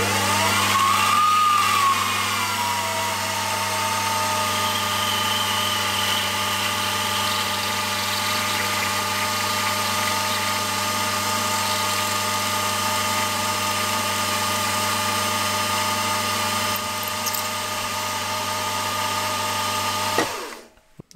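A machine tool drilling holes open to 6 mm diameter in a two-throw crank for a model opposed twin IC engine, a steady loud motor drone with a cutting whine running continuously, alone and stopping at the end.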